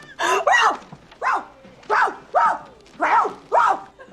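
A woman barks like a dog in a scene from the 1988 film Scrooged, a string of about eight loud, close, yelping woofs in an uneven rhythm, a voice imitating a dog.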